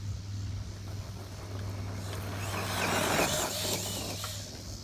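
A Traxxas Slash RC truck passes on an ATV dirt track, its motor rising to a louder whine midway and then easing off, heard alone against steady outdoor noise.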